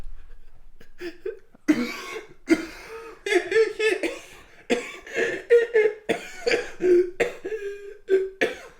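A string of coughs and throat-clearing bursts, close and fairly loud, broken up with short gaps and some vocal sounds between them.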